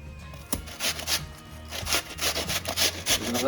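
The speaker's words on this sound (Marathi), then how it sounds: "काकडी जी आहे ना ती किसून घेऊया व्यवस्थित" Cucumber rubbed against a kitchen grater for a Konkan-style recipe, a run of rhythmic rasping strokes that start, pause briefly and then continue steadily, close and fairly loud with no talk.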